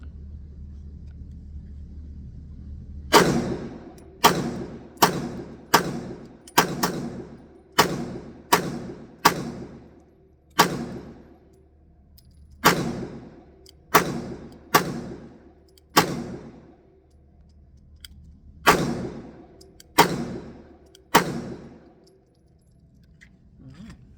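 A Glock G19X pistol fired at a shooting range, about eighteen sharp, booming shots in quick uneven strings separated by short pauses, each with a brief decaying echo, close and loud.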